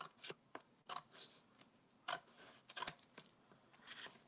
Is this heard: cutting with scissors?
yes